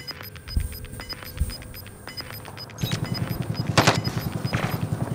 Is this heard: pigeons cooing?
no